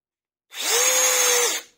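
Parkside Performance PDSSAP 20-Li B3 cordless impact driver spinning freely in one short burst of about a second, a close, loud whirring whine with a quick rise and fall, heard alone.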